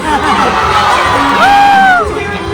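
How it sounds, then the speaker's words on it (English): A crowd on a Disney Dream cruise ship cheers and whoops loudly, with high excited yells rising and falling over a few seconds of close, dense crowd noise. "Every time someone starts cheering, she stops."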